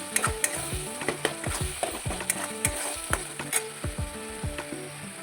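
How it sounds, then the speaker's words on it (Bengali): Spice paste with cumin and chili powder frying in oil and stirred hard, loud rhythmic scraping and clanking of a spoon against the pan over a constant sizzle. "লঙ্কা গুঁড়ো সব দিয়ে মশলাটাকে কষাবো"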